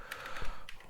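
A few quick keystrokes on a computer keyboard, soft light taps spaced irregularly and close by, quiet and alone.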